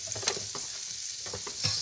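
Butter sizzling and frying in a pan, steady crackle with a few sharp stir clinks and scrapes, close and moderately loud, no talking.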